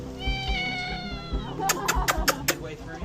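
A stray kitten stuck in a narrow drainage pipe mews repeatedly, with several drawn-out cries followed by a quick run of short, sharp meows close by, while people talk over the calls.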